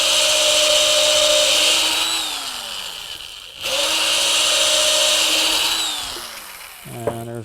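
A power drill whines loudly and steadily, winding down, then revving up again for a second long bore into the center of a wooden plant stand leg before stopping, close by.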